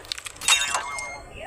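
A brief crack and shatter of breaking glass, a sharp burst followed by a short tinkling decay, heard up close.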